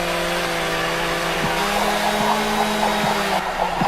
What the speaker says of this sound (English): today I'm juggling 20 chainsaws